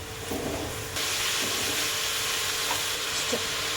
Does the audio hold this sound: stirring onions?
yes